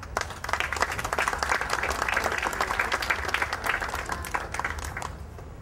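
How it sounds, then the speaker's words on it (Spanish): An audience at a municipal council session applauds an award recipient, a sustained round of many hands clapping that swells and then slowly fades. "El aplauso para ella."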